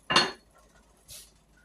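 A metal canning pot of peach jam jars is lifted off a stove burner, with one sharp clanking knock of metal followed by a softer scrape about a second later.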